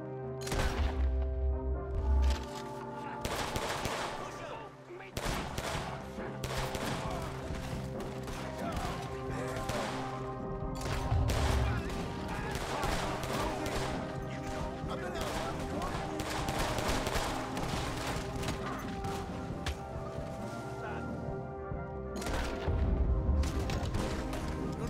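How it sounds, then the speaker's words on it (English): Desert Eagle pistol with custom audio, fired in a Red Dead Redemption 2 weapon mod: repeated loud, punchy shots ring out steadily throughout, with a narrating voice heard among them. "This is the Desert Eagle, and this thing will lay you out. This weapon has custom audio"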